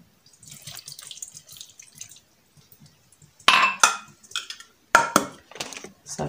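A small amount of water poured while making a barley couscous dish, heard as short splashing and trickling bursts with a few drips, close and fairly loud against otherwise quiet surroundings.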